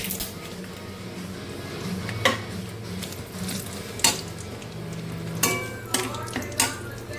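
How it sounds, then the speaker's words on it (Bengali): Bay leaf tempering sizzling in hot mustard oil in a pan, a close crackling fry punctuated by several sharp utensil clacks against the pan, with no voice over it. "ওই তেলের মধ্যে আমি আরেকটু সর্ষের তেল দিয়ে দিচ্ছি, আর ফোড়নে দিয়ে দিচ্ছি"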